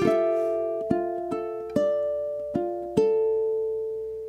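A handful of plucked ukulele notes ring out one by one in a slow, uneven rhythm, close and clean with no talking.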